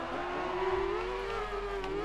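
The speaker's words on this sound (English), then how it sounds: "These sound like motorbike engines" Rally car engines in the DiRT racing game holding a high, buzzy, slowly rising rev note, steady and continuous throughout, with no one talking over it.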